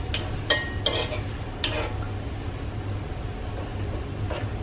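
Hot oil being stirred in an iron pan: a few sharp scraping strokes of a spoon against the metal near the start, then a soft, steady sizzling hiss.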